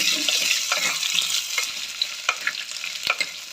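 Dried red chillies, small onions and garlic with curry leaves sautéing in a pan for a black-eyed pea curry, a steady close sizzle with scattered stirring clicks and spoon scrapes, no voices.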